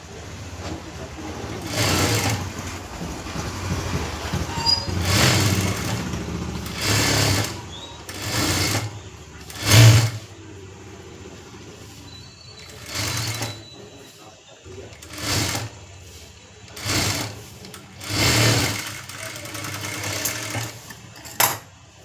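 Sewing machine stitching the lining of a collar-neck blouse, running in repeated bursts of a few seconds each with short pauses between, fairly close and steady, with no talk over it.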